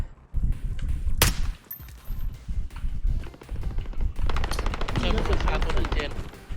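Bursts of automatic gunfire and single shots in Call of Duty Warzone, one sharp loud crack early and then rapid rattling fire later on, with players talking over much of it.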